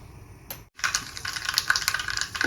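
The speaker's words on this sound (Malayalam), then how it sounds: "കടുക് പട്ടാൻ തുടങ്ങിയിട്ടുണ്ട്" Mustard seeds crackle and pop in hot oil in a pan, a dense run of small rapid snaps close by after a brief pause, with no speech.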